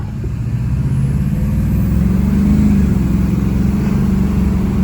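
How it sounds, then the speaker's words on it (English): A Duramax diesel pickup truck driving on the road after a fault was fixed, its engine giving a low steady drone that swells slightly as it gains speed, heard from inside without talk. "So now we're gonna take it on the road, drive it, and see what it feels like."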